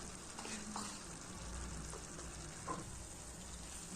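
Dry spices, turmeric and red chilli powder, fry into the ground masala paste for an egg curry, giving a soft continuous sizzle with light stirring scrapes, faint and close.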